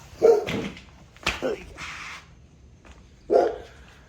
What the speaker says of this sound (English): That's my dog. He's being silly.